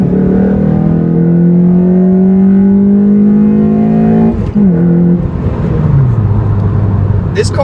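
A 2015 Honda Civic Si cruising on the highway, its engine droning loudly and steadily from inside the cabin, the pitch rising gently as it accelerates, then dipping with a gear change before settling again.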